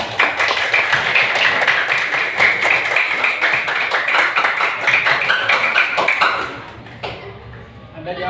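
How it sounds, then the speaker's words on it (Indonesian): Primary school students applaud in a classroom during a debate lesson, a dense burst of many hands clapping for about six seconds before it fades out, with a voice speaking near the end. "Tepuk tangan."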